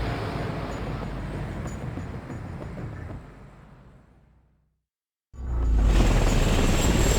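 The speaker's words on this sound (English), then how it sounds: "You'll fly an AC-130 gunship to provide close air support" A deep, steady aircraft drone from an AC-130 gunship in the video game HAWX 2, loud and continuous, fading to near silence before surging back strongly, with no talk over it.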